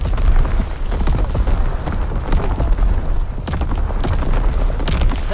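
Mortar rounds exploding in a video game battle, a dense, loud stretch of booming blasts and rumbling impacts layered over one another with no pause.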